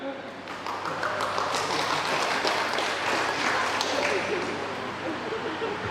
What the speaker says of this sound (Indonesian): ini kasih tepuk tangan, saudara ya